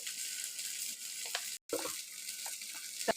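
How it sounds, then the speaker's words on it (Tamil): Maggi masala, chili powder and turmeric sizzle and fry in a pan, giving a steady close hiss broken by occasional stirring scrapes and a brief pause, with no talking. "கலருக்கோசரம் கொஞ்சோண்டு மஞ்சத்தூள் நல்லா வதக்கிக்கலாம்."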